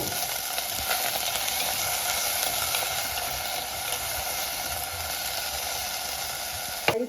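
Tomatoes roast in a hot pan for chutney, giving a steady, close sizzle that crackles on without a break, with one sharp clatter near the end.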